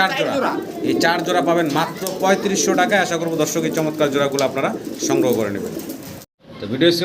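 Pigeons cooing in cages at a pigeon farm, mostly under continuous close talking, with a short pause near the end.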